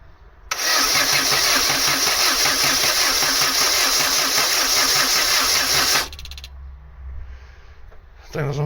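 A Vauxhall Astra Mk3 1.6 LS saloon that had not moved for years cranks briefly, catches and runs loudly for several seconds, then cuts off; a voice speaks quietly after.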